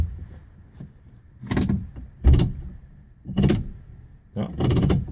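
Doors on a 1969 Dodge Dart four-door are shut repeatedly, giving four heavy, close thuds spaced about a second apart over quiet background noise.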